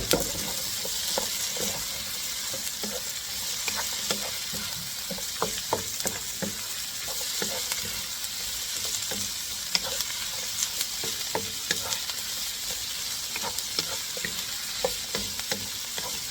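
Carrots stir-fry in a hot pan with a constant bright sizzle. Scattered clicks and scrapes from stirring rise over it, and the sizzle holds steady throughout.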